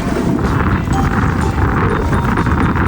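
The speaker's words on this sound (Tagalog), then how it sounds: "Malakas ang hangin" Strong wind roars steadily against the microphone on a white sandbar at Talao-Talao Beach, Lucena, a dense continuous rush with gusty buffeting throughout.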